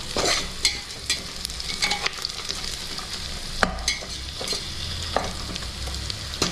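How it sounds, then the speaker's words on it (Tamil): Onions frying golden in a pan for ghee rice, a continuous close sizzle with occasional spatula scrapes and stirring clicks, no voices over it. "வெங்காயம் நல்லா உங்களுக்கு பொன்னிறமாக வதங்கியிருக்கு பாருங்கள்"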